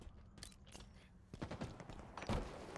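In a shooter video game, gunfire bursts crackle in scattered groups, fairly faint at first and then a sharper, louder cluster of shots near the end, with no one talking over it.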